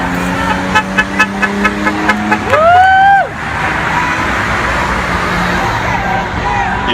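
Cars pass at a street protest in Washington, D.C., with a string of short rhythmic honks followed by a long rising horn blast, then a steady roar of traffic and crowd noise.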